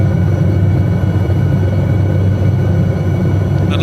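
An SA315B Lama helicopter flies over Lofoten, Norway, in Microsoft Flight Simulator, its engine and rotors producing a loud, steady, low droning rumble with no breaks.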